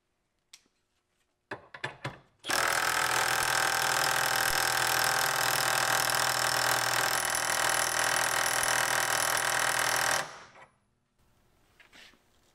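A Milwaukee impact driver runs continuously for about eight seconds, a loud steady whir with a high mechanical whine, after a few brief clicks and handling knocks, then cuts off and fades.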